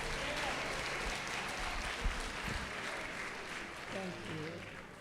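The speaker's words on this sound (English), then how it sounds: "Let's give Dr. Jabara Swain another round of applause." Sustained crowd applause at a Black Health Matters Harlem Week summit, even and moderately loud throughout, with a brief voice heard near the end.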